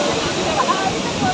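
Kempty Falls waterfall in Mussoorie, Uttarakhand, its steady broadband rush of falling water filling the short clip, with a voice speaking over the roar.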